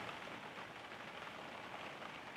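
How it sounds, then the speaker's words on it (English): Steady rain falling, a dense continuous hiss of drops on a surface, fairly loud and even throughout with no voices. "it's raining where I am"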